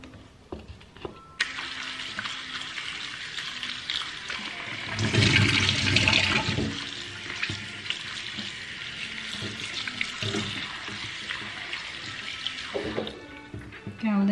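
Tap water runs into a kitchen sink to soak bitter chicory greens, a steady broadband rush that swells louder for a few seconds mid-way, with clinks and handling noises around it and no talking.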